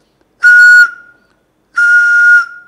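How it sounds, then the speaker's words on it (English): Two steady, breathy whistling tones, each held under a second, separated by a short silence, close and loud like air blown across a bottle mouth. "that you hold it and try to blow it like a whistle"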